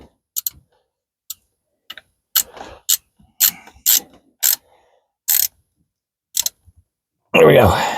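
A hand ratchet tightens a starter bolt on a 1972 VW Super Beetle, close, crisp clicking strokes spaced irregularly, ending with a louder burst of noise.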